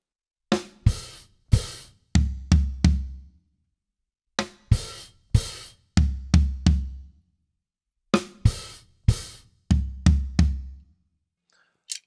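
A drum kit plays a fill three times in a row: crisp open hi-hat splashes, then three booming floor tom notes. The hits are close, loud and rhythmic, with short pauses between repeats.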